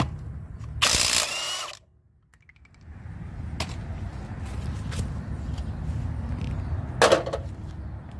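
Ratchet with a 22mm socket working the lug nuts on a 2017 Toyota Tundra during a front brake pad job: a longer burst of close clicking near the start, then a short second burst later over a low background rumble.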